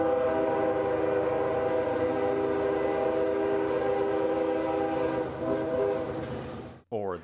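A loud, sustained multi-tone US train horn blares for several seconds, then cuts off abruptly, followed by a brief burst of another sound.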